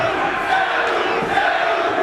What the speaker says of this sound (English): But hear how the crowd reacts to Sabu.